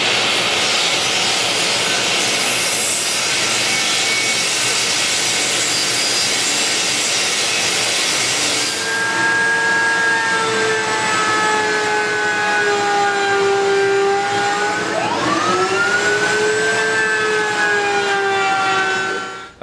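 A router table fitted with an ogee bit cuts wooden trim, a loud steady high-pitched whine with a harsh cutting roar for the first half that then eases into a sustained motor tone with a brief pitch dip near the end.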